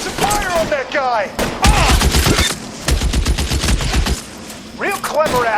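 Loud bursts of gunfire in L.A. Noire crackle in rapid volleys, with a shouting voice in between.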